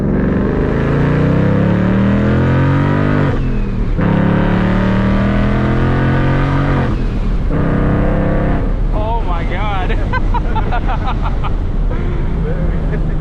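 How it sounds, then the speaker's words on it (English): A ProCharger-supercharged Ford Mustang engine revs and roars, rising and falling in pitch with a high supercharger whine, while voices talk over it throughout. "you can't beat that ProCharger sound, man"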